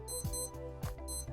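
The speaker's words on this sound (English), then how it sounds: "press and hold this button on the right side and it will give a beeping sound." A Casio W59 digital watch sounds its alarm. Thin, steady electronic beeping runs throughout and is broken by two brief gaps.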